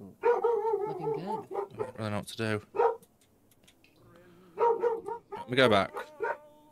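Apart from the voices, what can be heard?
dog barking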